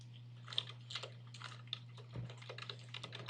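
Someone types code on a computer keyboard in quick, irregular bursts of close, soft clicking keystrokes over a low steady electrical hum.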